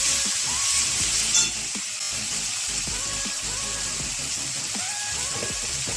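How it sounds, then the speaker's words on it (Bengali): Green peas go into a hot pan for a Bengali mixed vegetable dal, sizzling and frying in a steady loud hiss with soft stirring scrapes throughout. "এবারে এই যে কড়াইশুঁটিগুলো দিচ্ছি"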